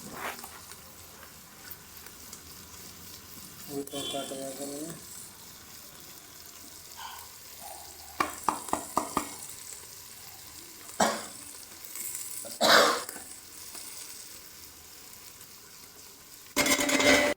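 Curry ingredients with chopped chillies fry and get stirred in a pan for a Punjabi-style potato and onion kadhi. A quiet sizzle continues underneath sporadic scraping and clattering of the spoon against the pan.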